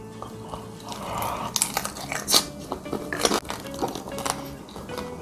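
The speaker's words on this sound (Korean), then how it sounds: "겉에는 바삭바삭하고" Crispy roasted German pork knuckle (schweinshaxe) being bitten and chewed close up, a run of sharp crackling crunches with clinks of utensils, quiet and intimate without talk.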